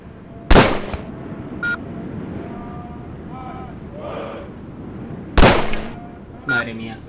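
Two sharp gunshots at targets in Conflict: Desert Storm II, about five seconds apart, each followed by a short metallic clink, over a steady low background hum.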